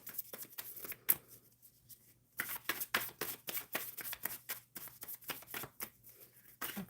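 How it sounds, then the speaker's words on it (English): Close, rapid riffling of cards in quick bursts, a short pause, then a longer run of brisk shuffling strokes. "Shuffling for Jazz"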